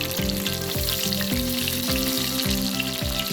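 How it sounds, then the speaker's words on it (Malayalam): Mushroom pieces dipped in batter deep fry in hot oil, making a loud, steady sizzle and crackle with repeated rhythmic scraping or stirring strokes in the pan, close up and with no voices. "എണ്ണ ചൂടായി വന്നാൽ മഷ്റൂം പീസ് ഓരോന്നായി മാവിൽ മുക്കി വറുത്തു തുടങ്ങാം."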